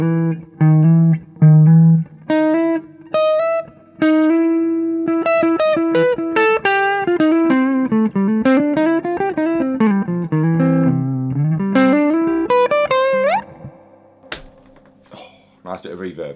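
An electric guitar plays a flowing lick of quick single notes with reverb, bending and sliding through a phrase, then ringing out into a washed tail at the end.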